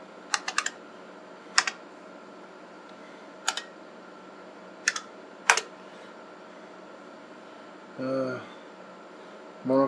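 Keys on an IBM AT 5170 computer keyboard clatter in a few short bursts of clicks separated by pauses, over a steady fan hum, ending with a couple of louder thuds.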